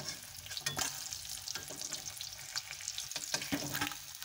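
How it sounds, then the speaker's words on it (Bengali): Rohu fish fries in plenty of oil in a wok, a steady soft sizzle broken by occasional scraping stirs and clicks, fairly close and quiet with no talk. "কড়াইতে আমি অনেকটা তেল দিয়েই মাছটা ভেজে নিয়েছিলাম"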